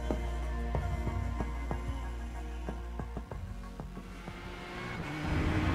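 A GSRC 4GT race car lapping Watkins Glen in iRacing, engine droning loud and close with repeated gear shifts, a dip as it brakes into a corner, then revving back up hard.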